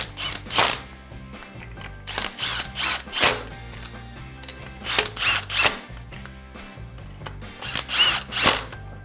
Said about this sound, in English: You're going to tighten your 6M Allen head bolts, starting from the bottom and working your way up.